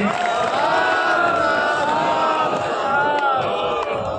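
A gathered crowd honouring Buddhist monks, clapping and chanting with raised voices in a loud, dense, continuous swell of many people at once.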